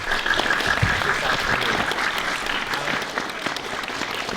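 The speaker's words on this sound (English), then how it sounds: "Can we just get a round of applause for both of our guests?" Audience applause for the two guests at a live debate on belief in God, a steady, dense clapping from a full room that holds evenly throughout with a faint cheer near the start.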